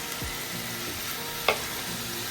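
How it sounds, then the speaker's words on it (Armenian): Cut chicken breast fries in a pan with spices, giving a steady close sizzle throughout, with one brief utensil clink partway through. "Տապակում ենք, ընթացքում կավելացնում նաև համեմունքները"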